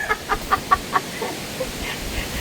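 Chickens cluck in a quick series of short, fairly faint calls, then fall quieter against soft background noise.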